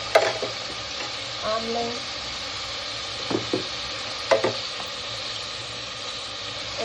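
Cumin seeds sizzle and crackle steadily in hot oil in a pan for aloo rice, with brief stirring clatters and a short spoken word over the frying.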